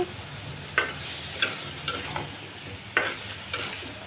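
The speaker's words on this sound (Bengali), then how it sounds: "এটাকে আমি ভালোভাবে কষাবো নেড়ে চেড়ে কষিয়ে তারপর ঢেকে দিব" Taro and potato fry with spices in a pan, a soft sizzle under repeated stirring, each push of the spoon giving a sharp scrape or tap every half second or so.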